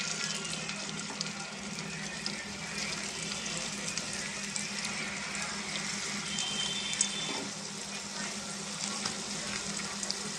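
Sweet corn snacks frying in hot oil in a pan give a dense, continuous close sizzle and crackle that holds steady throughout, with faint occasional movement in the pan.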